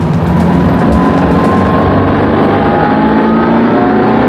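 A Ferrari F40 engine drones steadily at close range while driving, a rough low hum with a rising whine, held loud and continuous throughout.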